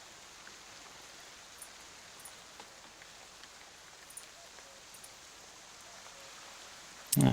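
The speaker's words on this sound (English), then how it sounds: "The rain continues, and the night eventually gives way to dawn." Steady, soft rain hiss falls through a night jungle in a video game, an even wash of drops with faint scattered ticks, ending in a brief louder burst.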